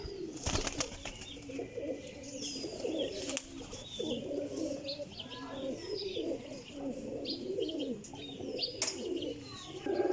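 Long-faced Teddy pigeons coo in steady, overlapping low rolling calls close by, with faint chirps and a couple of sharp clatters, and no one speaking.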